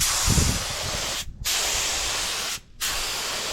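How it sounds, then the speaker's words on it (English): A paint spray gun hisses continuously while laying clear coat on a Honda Civic in a body shop, a loud, steady spray broken by two brief pauses as the trigger is released. "clear coat. We're gonna go from the bottom and work our way up."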